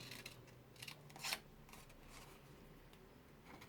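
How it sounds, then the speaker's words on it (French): Scissors cut a small strip of paper for an advent calendar box, giving a few faint, close snips with one sharper cut in the middle of a quiet room. "il vous suffit de couper une petite bande"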